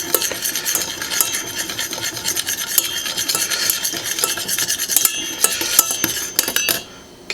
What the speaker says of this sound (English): just gently whisk it in there as it melts